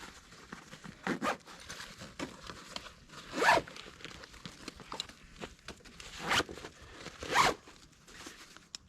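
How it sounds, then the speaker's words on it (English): A backpack's rear zipper is opened in several separate sharp zips, each a brief rasping pull, close and alone with quiet pauses between. "So there's a little zipper here on the back."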